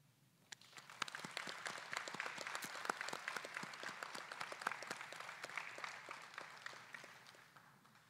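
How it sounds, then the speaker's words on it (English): Audience applause at a U.S. Army ROTC commissioning ceremony, a steady wash of many hands clapping that swells within the first second, holds for several seconds and then tapers off. "Please join me in a round of applause."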